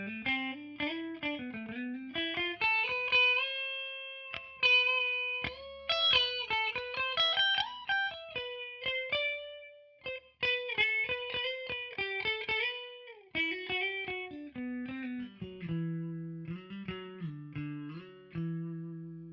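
Spira S450 electric guitar on the middle pickup position played clean with a slightly nasal, honky tone, a melodic line of single notes and short chords ringing out continuously.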